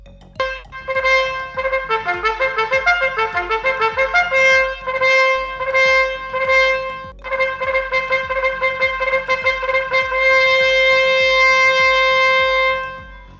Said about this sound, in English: Obviously, that was the sound of a trumpet.